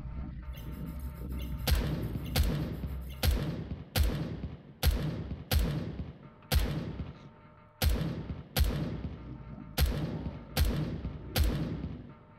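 Gunfire in the game Empyrion during a weapon bunker assault, about fourteen heavy booming shots at a steady irregular pace, each decaying into a rumble, loud and close with no voices.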